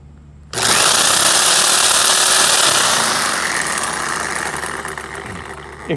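A motor starts abruptly and then runs loud and steady, a dense roaring drone that eases slightly toward the end, with no talking.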